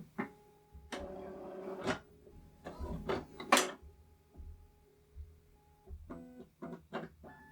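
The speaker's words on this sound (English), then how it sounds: "Fucking printer." A printer runs in a room during a podcast recording, giving bursts of mechanical whirring and clicking separated by quieter pauses, with short tonal motor runs near the end and no speech.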